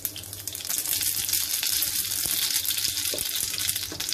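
Mustard seeds hit about four tablespoons of hot oil in a pan and sizzle loudly and steadily, with a dense crackling hiss throughout.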